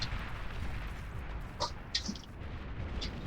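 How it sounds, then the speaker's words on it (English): Artillery fire in the strategy game Beyond All Reason sounds as a few scattered sharp reports and distant thumps over a steady low battlefield rumble, moderately quiet. "Oh, artillery."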